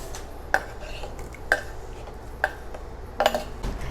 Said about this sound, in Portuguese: Eu vou pegar nossos pêssegos aqui, vou colocar na panela.